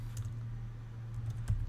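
Soft, rapid keystrokes on a computer keyboard as a file path is typed, a quiet continuous patter of clicks with a slightly louder tap near the end.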